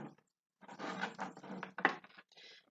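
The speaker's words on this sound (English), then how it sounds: "Sorry, I got this deck yesterday and it's slightly tricky to shuffle." A brand-new, stiff oracle card deck is shuffled by hand at close range, with soft papery riffles and flicks coming in short uneven bursts separated by brief pauses.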